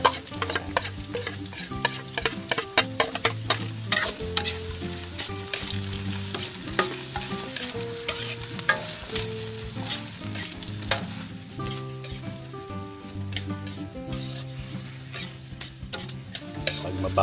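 Aromatics sautéing in a pan for seafood sinigang with miso, a steady sizzle broken by repeated sharp clanks of a utensil stirring against the pan, close and fairly loud, over a sustained tonal backdrop.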